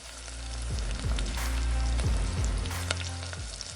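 Small mutton pieces hit fried onions in hot oil and sizzle loudly and steadily, with a few clinks and scrapes of stirring over the continuous hiss.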